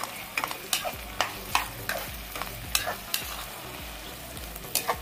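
A thick tomato masala for Chettinad chicken curry being stirred in a pan, a soft sizzle under a string of distinct scraping spoon strokes at an irregular pace, close and moderately loud, with no talking.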